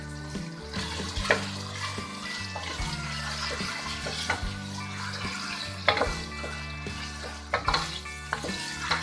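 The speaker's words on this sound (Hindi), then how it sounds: "अब हम इसके अंदर ऐड कर लेंगे गाजर, इसको भी इसी तरह फ्राई करेंगे।" Carrots fry in a pan of mixed vegetables, a steady sizzle broken by repeated scraping and stirring clatters of a utensil against the pan.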